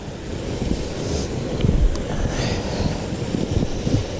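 A waterfall along Meigs Creek Trail sends up a continuous broadband rush of falling water, steady and fairly close. Some wind buffets the microphone, and no one speaks.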